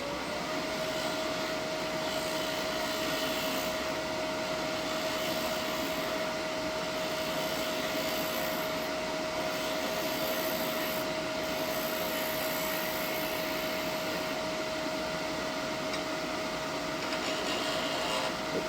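Light finishing passes on a wood pen spinning on a lathe make a steady, even whirr with a sustained tone and an airy hiss, continuous and unbroken.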